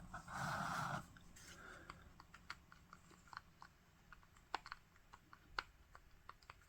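A larger D-pad and buttons on a handheld game console pressed up close, producing a string of soft, muted, not-very-clicky taps in irregular rhythm, fairly faint, following a brief rustling noise at the start.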